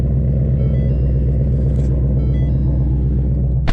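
A manual-transmission car engine idles steadily after starting, giving a loud, close, even rumble that runs throughout, with a brief sharp noise near the end.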